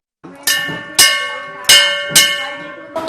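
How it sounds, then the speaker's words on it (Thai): A school bell on an island rings at morning assembly time. It gives five loud, resonant metallic strikes about half a second apart, and each one rings on as the next lands. "เมื่อถึงเวลา7นาฬิกา 40 นาที เสียงระฆังก็ดังขึ้น เป็นสัญญาณให้ทุกค นมารวมตัวกันที่หน้าเสาธง"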